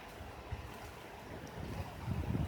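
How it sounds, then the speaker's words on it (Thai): Strong wind rising as rain begins, a broad, rushing outdoor roar with buffeting gusts against the microphone that grow louder toward the end. "ลมแรง ฝนก็เริ่มมาละ"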